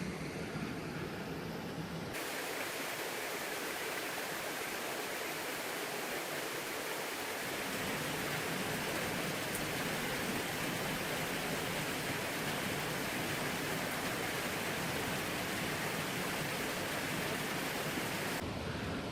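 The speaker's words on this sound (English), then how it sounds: "this river is starting to get pretty intense with the boulders here" A boulder-strewn river on Vancouver Island's North Coast Trail rushes in a steady, loud, broadband roar that fills the whole stretch without pause, with no voices over it.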